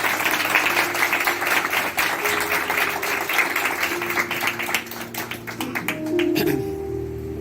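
Congregation in a church during a Palm Sunday service clapping loudly, a dense sustained wash of applause with sharper claps near the end, while music and voices carry underneath.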